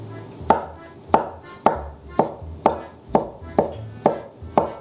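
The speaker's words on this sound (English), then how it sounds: "and then you just start cutting." A knife chops through handmade noodle dough on a floured cutting board in nine steady, evenly spaced thuds, each one close and crisp with no voices.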